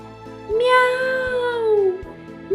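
A domestic cat gives a single clear, drawn-out meow, loud and close, rising then gently falling over about a second and a half against a quiet background.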